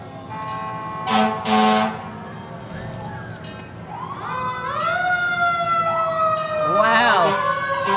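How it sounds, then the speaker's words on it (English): Fire truck in a Christmas parade sounds its wailing siren with rising and falling sweeps, mixed with horn toots and a horn blast near the end, fairly close and loud over crowd murmur. "Who's in the fire truck getting all that noise, huh?"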